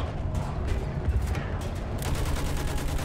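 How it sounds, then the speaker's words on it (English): Dense, continuous gunfire and battle din from the World War I shooter Battlefield 1 as troops advance from trenches, with rapid overlapping shots rolling steadily and loudly throughout, no voices. "Use that machine gun."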